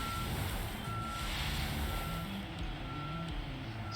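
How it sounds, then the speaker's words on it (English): An articulated dump truck in Construction Simulator 2022 sounds its reversing alarm, a steady series of evenly spaced beeps over a constant engine drone, close and continuous. "I guess that's where this articulated truck comes in handy."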